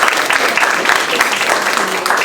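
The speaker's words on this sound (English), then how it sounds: "they deserve a round of applause." An audience at an art presentation breaks into a round of applause, a dense, even clatter of many hands that carries on loudly from start to finish.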